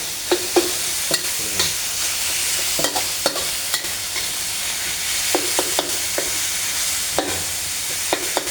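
Minced pork stir-fried over high heat for a quick basil stir-fry, giving a steady loud sizzle broken by sharp, irregular scrapes and clacks of a spatula against the pan.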